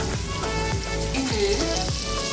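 Mixed vegetables with tomatoes fry in a pan, giving a soft steady sizzle with a few light clinks and taps from a utensil, no talking.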